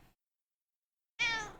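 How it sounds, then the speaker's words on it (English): A pet cat lets out a single short, clear meow close by after a moment of silence. "Sorry, guys. I didn't expect my cat."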